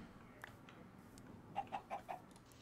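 A chicken in Minecraft gives four short, soft clucks in a quick, even run against a quiet background, with no talk.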